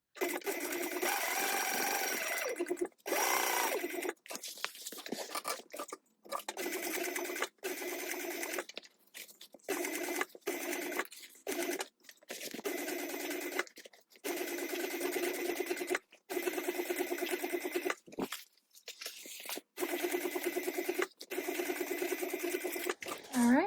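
A sewing machine stitches a seam on a top accent in fast whirring bursts that stop and start many times, close and steady, with short pauses between runs.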